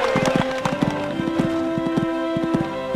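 A horse gallops at amateur horse trials in Sydney, its hooves thudding in a quick, even rhythm close by, with a steady tonal hum running beneath.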